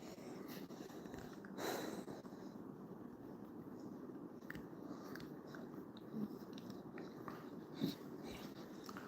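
A dog gnaws and chews on a bone close by, with a continuous run of soft crunching and biting sounds and occasional louder clicks over a low background hum.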